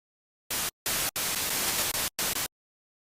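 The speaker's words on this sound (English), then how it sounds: "Now we already know that oscillator 3 has a noise generator." Bursts of broadband hiss from the noise generator on oscillator 3 of the Logic ES2 software synthesizer, switching on and off in four separate blocks of steady white noise, loud and alone.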